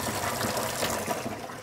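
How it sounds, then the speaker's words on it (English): Water gushes steadily into a vintage camper van's water tank during filling, a continuous close rushing fill with no voices. "Filling up our water tank."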